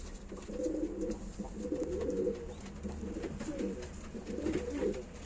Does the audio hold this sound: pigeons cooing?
yes